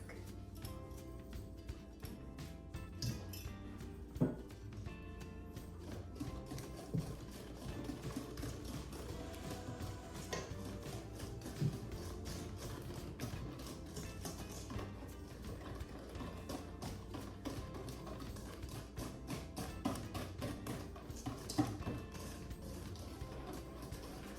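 A metal whisk beats pecan pie bar batter in a bowl, producing a steady run of quick scraping, clicking strokes that stays close and fairly even throughout, with no talking.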